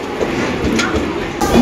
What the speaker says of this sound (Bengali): চলে এসছি ট্রেনের সামনে।